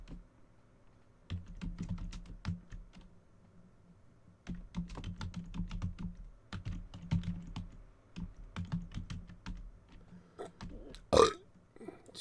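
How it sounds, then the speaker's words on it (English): A person burps after drinking soda, several short low belching bursts spread across a quiet room, close and fairly loud with brief pauses between them and no talk. "Sorry if I burped in your ear."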